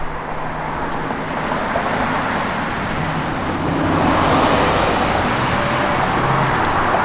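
A 1990 Ford Mustang LX convertible with a manual transmission and a Flowmaster X-pipe dual exhaust produces a steady, broad rumble that swells slightly louder in the second half, with no talking.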